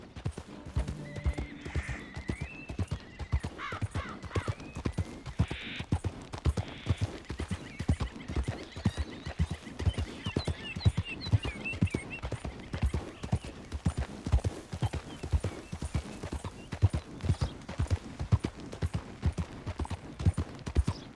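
Horse hooves clip-clop at a steady walking pace in Red Dead Redemption 2, close and rhythmic, with a horse neighing and whinnying partway through and occasional other game sounds.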